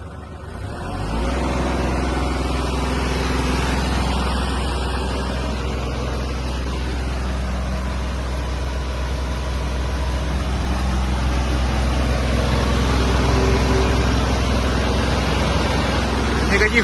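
A Kubota GL-23 Japanese mini tractor engine runs in a higher gear at about 1500 rpm, giving a loud, steady, close droning hum that holds even throughout.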